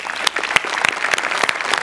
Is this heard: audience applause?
yes